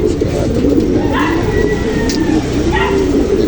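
Pigeons cooing outdoors at a racing pigeon loft, with soft repeated coos over dense, rumbling background noise.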